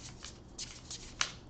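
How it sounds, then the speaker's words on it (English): Close, quiet riffling of playing cards in a few short bursts, ending with a sharper snap as the deck settles. "as I'm shuffling, I guess this is just the first shuffle."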